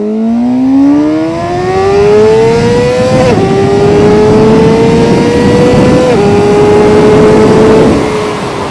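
A KOVE 450RR motorcycle accelerating hard, its engine note climbing steadily through the gears with two clear shift drops, loud and close throughout with constant wind rush.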